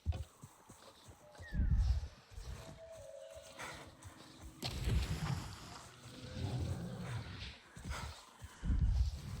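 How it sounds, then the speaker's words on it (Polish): A young dark horse walking in the Avatar Frontiers of Pandora video game, with soft thudding footfalls and snorting bursts at moderate loudness amid ambient game sounds. "Mroczny koń młody."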